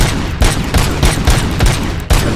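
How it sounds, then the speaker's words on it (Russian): In the video game RoboCop: Rogue City, RoboCop's gun fires single shots. About seven loud, close, punchy reports come in a quick, fairly even rhythm, with nothing else heard between them. "одиночными стреляет"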